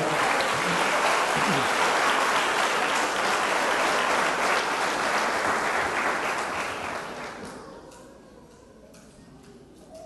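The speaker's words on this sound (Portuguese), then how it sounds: "Dê um forte aplauso ao Senhor." A church congregation claps loudly and steadily for about seven seconds, a dense sustained applause that then fades and thins out toward the end, with faint voices underneath.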